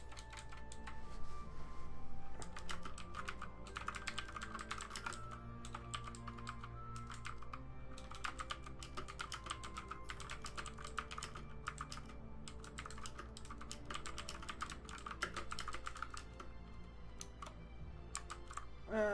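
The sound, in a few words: typing on a computer keyboard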